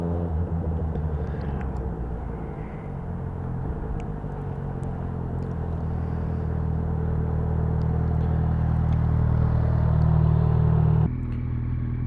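A 2010 Kawasaki Z1000 motorcycle riding in second gear in a parking garage, its engine a steady low rumble that builds louder toward the end before dropping off, with no talk.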